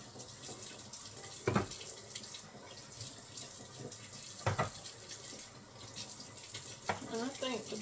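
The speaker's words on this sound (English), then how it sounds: "Got my water running." Kitchen tap running steadily into a sink while can tops are washed, a continuous close water hiss with a few louder splashes and clunks as the cans are handled.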